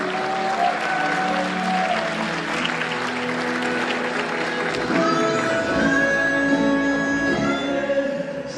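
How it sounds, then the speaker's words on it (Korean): Sustained audience applause at a live stage performance, loud and dense across the whole stretch, swelling slightly near the middle, with faint voices and some music tones mixed underneath. "큰 박수 보내주시기 바랍니다"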